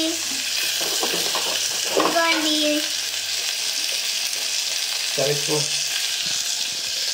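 Onions and green chillies fry in hot oil with a loud, steady crackling sizzle up close, brief stirring clinks and faint murmuring voices in the background.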